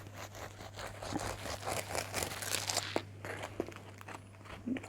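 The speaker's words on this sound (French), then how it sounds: "de la croûte, on entend le croustillant" A French tradition baguette's crust crackles and crunches when handled up close, a run of dry crisp crinkles with a few sharper snaps over a low steady hum, no voices.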